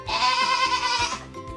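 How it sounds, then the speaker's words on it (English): A goat gives a single loud, close, wavering bleat lasting over a second, with a brief faint sound trailing after it and no talking. "And a goat is called bakri."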